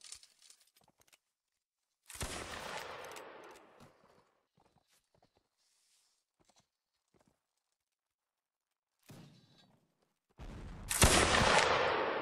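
Musket volleys in Mount & Blade: Warband Napoleonic Wars ring out in two separate loud cracks with rumbling tails, split by a quiet gap with faint distant noises.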